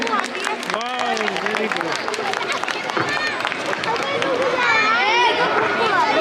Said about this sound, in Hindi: बच्चे के लिए एक बार जोरदार तालियां बजनी चाहिए